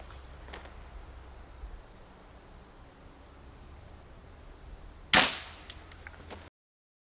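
A .22 caliber HW80 air rifle rated at 7.5 joules fires a single sharp, loud crack with a short fading tail, standing out against a quiet background.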